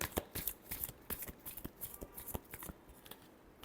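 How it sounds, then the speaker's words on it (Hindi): A deck of tarot cards is shuffled close by, a quick run of crisp riffling flutters and soft slaps in an uneven rhythm with short pauses between bursts, no talking over it. "last shuffle"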